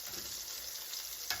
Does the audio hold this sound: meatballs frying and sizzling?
yes